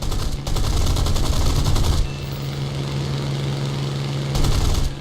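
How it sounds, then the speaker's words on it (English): Aircraft machine guns fire in a War Thunder arcade battle with British planes, two loud rapid bursts broken by a lull, over the constant drone of an engine. "take a couple of pot shots"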